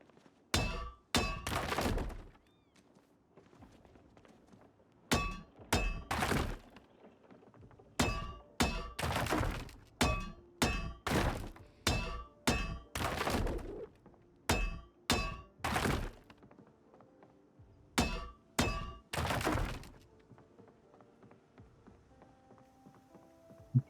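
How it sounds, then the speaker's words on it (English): Repeated heavy blows smash a light switch in Project Zomboid, arriving in loud clustered bursts of sharp thunks and breaking clatter separated by short pauses over a faint background hum. "I'm gonna have to destroy this light switch"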